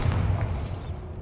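A Bombarda blasting spell goes off in a Harry Potter-style video game, a single dense, boomy explosion that stays loud for about a second before fading.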